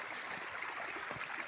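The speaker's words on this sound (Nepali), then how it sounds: "हाम्रो घरसम्म जाने पानी" A mountain stream in Thaha municipality runs toward a house, a soft steady rush of flowing water with faint gurgles and small splashes, quiet and close.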